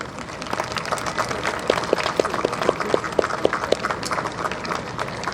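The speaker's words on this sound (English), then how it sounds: "show your appreciation to them with a round of applause" A crowd of graduates at a high school graduation gives a round of applause for their families. Steady clapping runs throughout, with a run of distinct nearby claps in the middle.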